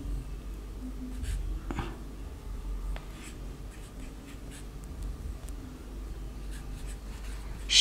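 Pen scratching on paper during a spoken English sentence-practice lesson: soft, intermittent strokes and faint taps over a quiet room hum, close to the microphone and low in level.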